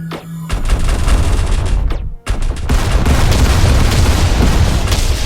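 Space battle in Star Drive 2 as a fleet's lasers open fire: a loud, dense barrage of booming blasts and crackling bursts that runs almost continuously, with one brief sharp gap near the middle.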